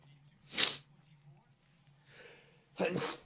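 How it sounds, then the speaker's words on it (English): Two sharp, loud sneezes about two seconds apart from someone commentating on a soccer match, each a burst of breath with a quieter snort between them. "apologies if you heard me sneezing there"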